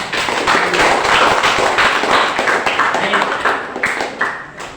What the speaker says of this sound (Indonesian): Beri tepuk tangan untuk kelompok ya